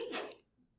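A single short, faint sneeze, a quick breathy burst that fades almost at once.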